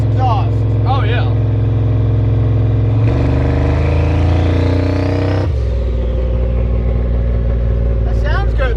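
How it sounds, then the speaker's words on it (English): Turbocharged Ford Ranger pickup with a loud exhaust and 4-inch muffler, idling with a deep rumble, then revving hard for a couple of seconds with rising pitch before settling back, heard up close with brief voices. "you put a 4-inch muffler on this loud ass exhaust"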